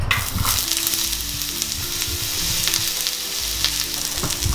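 Chicken sizzling steadily in an oiled pan, a loud continuous fry with crackling spatter and occasional stirring, with no voices over it.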